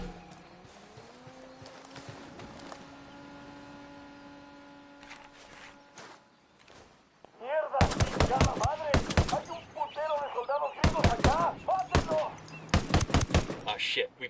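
Bursts of automatic gunfire in the Ghost Recon video game, dense rattling volleys that start midway after a quieter stretch of ambient hum and continue in clusters to the end.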